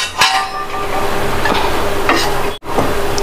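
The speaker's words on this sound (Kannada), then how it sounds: "ಅದಕ್ಕೊಂದು ಒಗ್ಗರಣೆ ಕೊಡುವ" Spices tempering in hot coconut oil for a raw Totapuri mango rasam, with a loud, close, steady sizzle and crackle plus a sharp utensil clink near the start and a brief dip in the sound.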